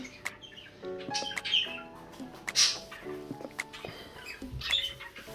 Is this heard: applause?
no